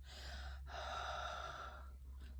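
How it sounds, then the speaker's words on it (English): Hot breath blown in long, steady exhales onto an ink blending brush to reactivate the ink for paper crafting, two close breathy pushes separated by a short pause. "I just keep breathing hot air on it"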